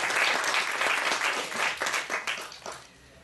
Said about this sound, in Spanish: me gustaría pues un fuerte aplauso para nuestra ponente